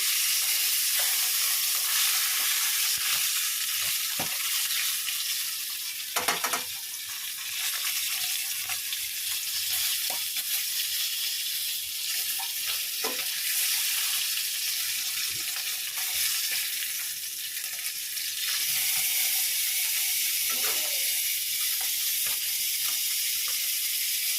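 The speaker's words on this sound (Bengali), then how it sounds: "মাছটা একটু লাল লাল করে ভাজবো" Fish frying in a home kitchen pan, browning to a reddish crisp, gives a steady loud sizzle and hiss throughout, with occasional stirring clatter and a brief scrape near the middle, no voices.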